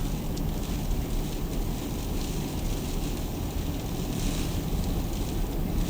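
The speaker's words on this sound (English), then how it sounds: "you go outside and the wind and snow just covers you up" Blizzard wind at Point Lookout, New York roars steadily in a dense, unbroken rush that buffets the microphone, with no clear voices.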